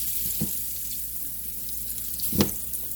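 Breakfast food frying in hot grease on a stovetop, a steady soft sizzle with two brief louder crackles or pops, no talking.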